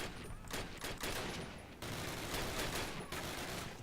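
Sustained machine gun fire in a Call of Duty battle, long loud rattling bursts with a brief break in the middle, heavy and close, dense enough to cover everything else.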